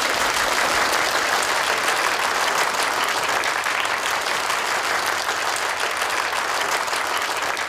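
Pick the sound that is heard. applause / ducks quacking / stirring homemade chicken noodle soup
applause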